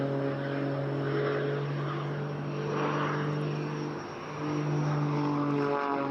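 Engine and propeller drone of a Pitts Special aerobatic biplane performing at an airshow, a steady loud hum with harmonic tones that dips briefly then swells back as power is reapplied.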